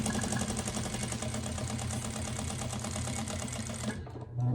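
A sewing machine stitches quilted fabric for an iPad holder, including a short backstitch, with a rapid, even mechanical clatter that runs steadily and then stops near the end.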